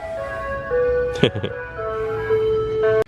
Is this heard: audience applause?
no